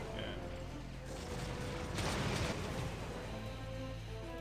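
Troops firing in the strategy game American Conquest: a dense crackling volley of shots swells near the middle over a steady bed of game noise and clatter.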